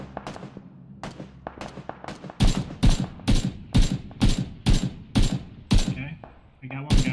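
Rapid bursts of video game gunfire during a firefight, starting with scattered shots and then settling into a loud, regular volley of heavy reports, with players' voices faintly underneath.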